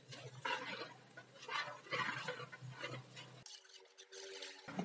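Scraping and rustling of spices, including chili powder, being stirred in a pan over low heat for chicken kabsah, soft and close, in uneven strokes, ending with a brief quieter stretch.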